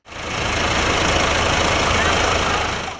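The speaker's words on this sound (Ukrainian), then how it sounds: "за допомогою трактора працівники підприємства декоративні культури висаджують глід" A tractor runs steadily while workers plant hawthorn trees on Zinkivska Street in Poltava, a loud, even engine rumble that holds for a few seconds, close by and uninterrupted.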